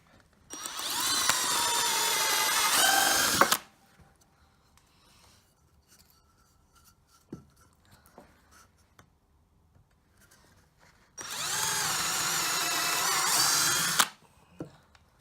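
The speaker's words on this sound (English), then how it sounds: "I'm just going to drill some smaller holes first" A power drill bores small holes in wood, running in two steady whirring bursts of about three seconds each, close and loud, with quiet pauses and a sharp knock between them.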